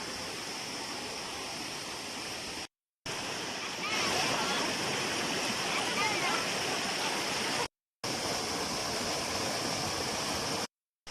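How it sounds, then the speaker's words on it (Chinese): Clear spring water rushing steadily down a small mountain stream below a waterfall in a primeval forest, a continuous broadband wash that is fairly loud and close and cut by brief gaps. "看看这小河多清，"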